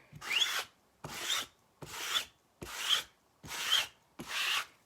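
Chalk paste scraped off a stencil in six steady, evenly spaced strokes, each a close, dry rasping swipe with short pauses between, and no talk.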